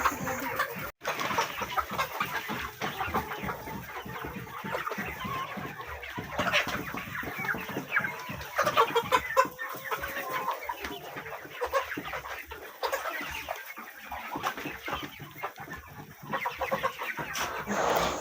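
A flock of young chickens clucks and chatters continuously, many birds close by with overlapping calls rising and falling in a busy, steady murmur.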